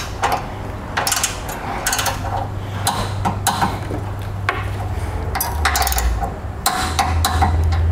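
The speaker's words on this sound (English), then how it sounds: "Now we'll torque these two bolts to the amount specified in the instructions" A torque wrench clicks and ratchets in repeated sharp bursts while bolts are tightened on a Blue Ox tow base plate during installation on a vehicle, with a steady low hum running underneath.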